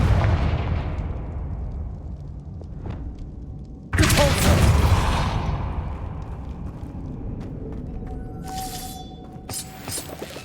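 A Confringo fire spell explodes in Hogwarts Legacy inside a witch's tomb, a sudden loud blast with crackling debris over a low rumbling ambience, then fading echoes and a brief bright chime near the end.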